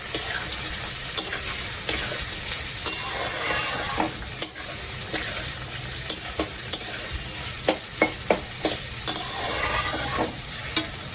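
Ingredients for capsicum pulao fry in hot oil, giving a continuous close sizzle broken by frequent sharp clicks and scrapes of a spoon stirring against the pan; no one speaks.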